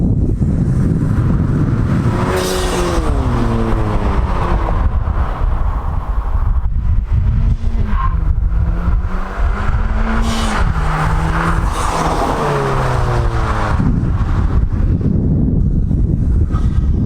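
A 2020 Honda Civic Si fitted with a PRL cold air intake drives past, engine note rising and falling through gear changes, loud and close with a roaring pass and intake sound.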